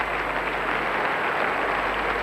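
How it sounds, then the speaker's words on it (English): Sustained applause from a crowd of 8,000 spectators at an ice dance world championship arena, a dense, steady roar of clapping filling the space without a break. "I don't think I can ever remember such a sustained length of applause as they are receiving on this tremendous occasion."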